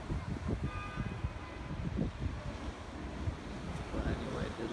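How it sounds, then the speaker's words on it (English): Big ocean waves breaking at the beach in Ocean City, Maryland, a continuous rushing surf with gusty wind buffeting the microphone, rising and falling in loose surges. "The waves are pretty big right now."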